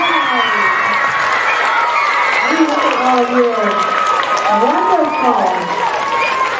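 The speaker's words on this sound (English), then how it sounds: "we can give our fifth grade student government representatives a wonderful round of" Crowd clapping and cheering for fifth grade student government representatives at a school swearing-in ceremony, steady and loud throughout while an adult speaks over it.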